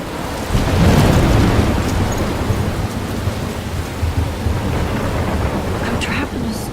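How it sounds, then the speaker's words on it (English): A thunderstorm in the video game Life is Strange: heavy, steady rain hiss with low rumbling thunder swelling early on, loud and continuous throughout. "I'm trapped in a storm?"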